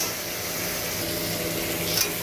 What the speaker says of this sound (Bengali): আদা রসুনটা আমার ভাজা হয়ে গিয়েছে।